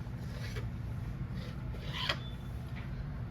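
A knife cuts rolled chapati dough into pieces for varan phal, making a few soft, short scraping strokes spaced roughly half a second apart, quiet and close.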